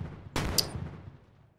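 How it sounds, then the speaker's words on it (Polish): An explosion in the battle game Rising Front lands as one sharp, loud blast followed by a second crack, then a rumbling tail that fades over about a second. "Bardzo nieprzyjemne są te eksplozje."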